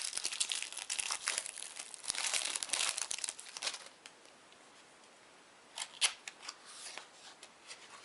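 Old, brittle cellophane wrapping is crinkled and torn off a card deck box, giving close, rapid crackling and ripping for several seconds, then a quiet pause and a few sharper crinkles near the end.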